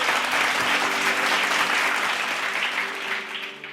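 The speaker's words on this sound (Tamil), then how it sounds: "கைத்தட்டு" A church congregation claps together in sustained, dense applause that stays loud throughout and eases slightly toward the end, with a faint hum of voices underneath.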